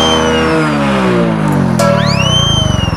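A motorcycle engine revs loudly and close, its pitch rising and falling through quick throttle bursts, with no talk over it.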